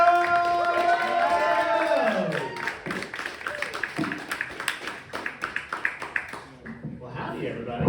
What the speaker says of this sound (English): Please, big round of applause.